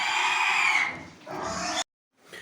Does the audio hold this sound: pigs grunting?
yes